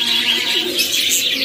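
Pigeons coo softly and repeatedly close by, their low, throaty calls overlapping against a bright chirping and rustling background.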